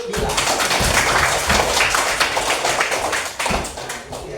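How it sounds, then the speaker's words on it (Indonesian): Classroom applause for a student, a burst of clapping hands from a group of pupils, close and loud, with a few thumps, steady for a few seconds before tapering. "kasih tepuk tangan untuk Bila"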